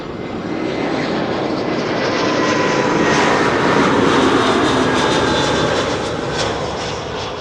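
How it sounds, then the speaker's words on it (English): A Vueling airliner lands at Schiphol Airport, its engines a loud broad roar that swells through the middle and then eases slightly, with no voices over it. "Meanwhile, Vueling is landing here."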